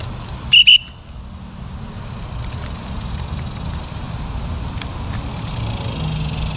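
Survival whistle from a bushcraft rucksack kit blown once in a short, sharp, shrill blast near the start, then only quiet outdoor background hiss.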